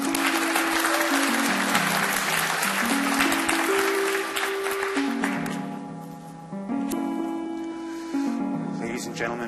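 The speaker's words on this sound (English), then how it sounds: "A round of applause for the volunteer." An audience applauds a volunteer at a magic show. Full clapping comes first, then fades, while music with sustained tones plays underneath throughout.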